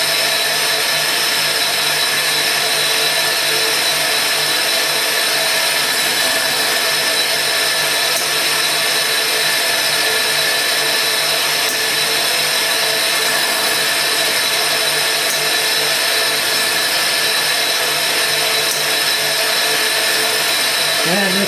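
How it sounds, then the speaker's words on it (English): A tool and cutter grinder works the secondary clearances of a hard side and face cutter, giving a steady high whine with a dense hiss that runs unbroken and fairly loud throughout. "we'll grind a bit of the secondaries."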